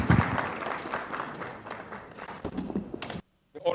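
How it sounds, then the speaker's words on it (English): An audience at a business breakfast meeting applauds the managing director of a communications group, a faint, distant patter of clapping that runs for about three seconds before dropping briefly to silence. "Round of applause for him."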